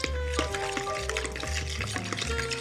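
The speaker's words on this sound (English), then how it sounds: "Next, use a fork to mix it up." A fork stirs sourdough starter into water in a bowl, giving soft wet scraping and sloshing in a steady rhythm. It is close and quiet, set over a bed of background music.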